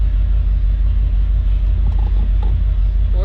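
A Ford F-350 shorty truck engine idles with a steady low rumble, close and continuous, with faint clunks over the top.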